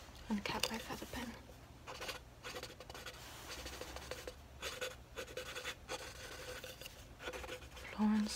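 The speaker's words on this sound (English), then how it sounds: "uncap my feather pen" Feather quill pen scratching across a blank sheet of paper, soft close-up strokes in a quiet room, with a few brief rustles and a faint voice near the end.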